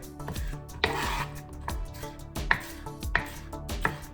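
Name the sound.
slicing spring onion diagonally with a long, wide knife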